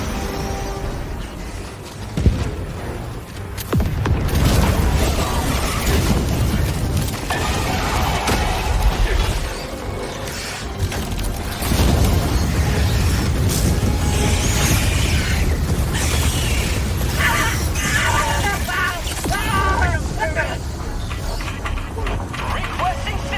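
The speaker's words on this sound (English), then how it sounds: "Calling in a hell bomb!" Heavy explosions from hell bombs in the video game Helldivers 2 roll through a dense, loud mix of booms and battle noise, with voices calling out over the din.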